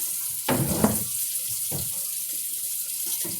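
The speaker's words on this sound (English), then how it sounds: "I usually use kind of warm tap water." Warm water runs from a kitchen tap in a steady, close splashing stream, broken by a few brief bursts as the flow hits the sink, with no talking.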